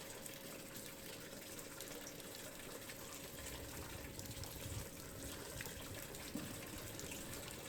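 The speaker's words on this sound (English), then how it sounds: "The falling water has a quiet, reverent feel about it." Quiet falling water at a well, a soft, even trickling wash with faint splashes, low in level and steady throughout, no voices.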